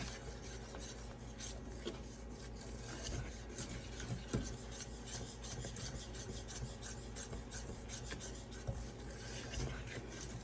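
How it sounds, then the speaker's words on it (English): A whisk scrapes rhythmically around a pan as vanilla is beaten into a cooking mixture, a steady close rasping stir that continues without pause at moderate loudness. "I'm going to add a little bit of vanilla. Whisk that in real well."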